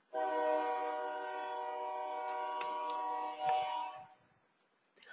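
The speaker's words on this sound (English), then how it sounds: "And there's that train again." A passing train sounds one long, steady horn blast that holds for several seconds and then fades away, with faint ticking along the line and no speech.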